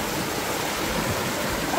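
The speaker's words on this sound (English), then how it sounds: "That's the water flowing right there." Continuous rushing flow of a village river in Jamaica, a steady broadband wash of water heard close and fairly loud with no voices over it.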